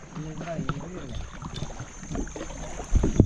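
Kayak paddling through clear water on Klong Root in Krabi, with soft water swishes and paddle strokes up close, a louder splash near the end, and someone talking over it.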